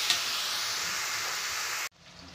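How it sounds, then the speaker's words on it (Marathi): Pea peel chutney frying in hot oil in a pan gives a steady, loud sizzling hiss that stops abruptly near the end, leaving quiet room sound. "आता हे पूर्ण फ्राय करून घेते"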